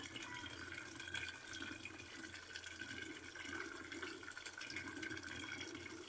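Water runs steadily from a tap while crabs are washed clean of mud, a constant close splashing hiss with faint drips and no talk.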